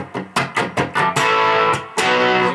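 Distorted electric guitar plays a few short, choppy palm-muted chugs in quick rhythm, then breaks into loud sustained ringing chords close up, from the intro of a rock song.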